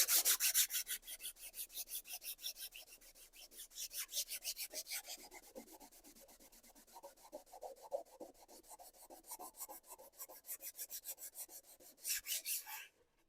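Sandpaper of 320 grit rubbing over a primed RC model airplane, soft rhythmic back-and-forth scratching strokes, close but fairly quiet, with a few brief pauses and no voices.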